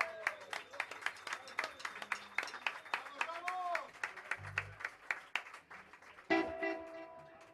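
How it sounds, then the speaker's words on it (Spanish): Concert audience applause for a guitar student, a fairly sparse round of individual claps with speech and a few musical tones mixed in, ending in a louder swell of sound near the close. "Un aplauso"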